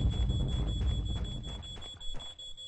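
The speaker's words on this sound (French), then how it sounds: "Ah, c'est l'alarme qui est ici." An alarm going off in the horror video game Paranormal, a steady high electronic tone sounding continuously over a rumbling, thumping background.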